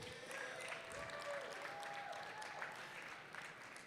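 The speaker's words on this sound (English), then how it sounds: "Let's give them another round of applause." Applause from an audience at an auto industry event honoring women, soft and somewhat distant, a steady wash of clapping with a faint tone drifting through.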